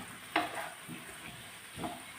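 Potatoes with chilli powder stirred in a pan for a Kerala potato mezhukkupuratti, a brief soft sizzle with a few scraping strokes, one sharper scrape near the start, close and quiet, with no talking.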